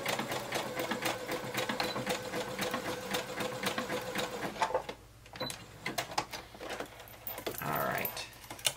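A sewing machine stitches fabric for a baby tee, running in fast rhythmic bursts of needle clatter up close. It pauses briefly, then restarts in shorter runs.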